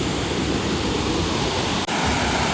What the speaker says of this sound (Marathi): अप्रतिम असा धबधबा या डोंगरातून वाहत येतोय.